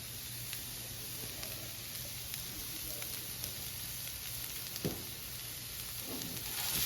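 Onions cooking on a Blackstone flat-top griddle for homemade burgers, giving a steady, low sizzle and crackle close by, with a brief scrape or clatter near the end and no talk.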